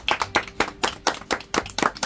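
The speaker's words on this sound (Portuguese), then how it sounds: "Salve de palmas!" A small group claps in rhythmic bursts of applause, close and fairly loud, with sharp repeated hand strikes for about two seconds and little talk.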